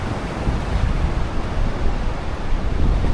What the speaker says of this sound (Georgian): სასწაული ძლიერი ქარი არა თუ რა.